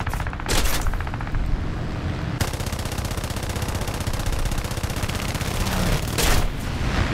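Aircraft machine guns fire in War Thunder during an air arcade dogfight with a J8A. The sound is a loud, continuous rattling burst that runs almost the whole clip, broken by a few short gaps.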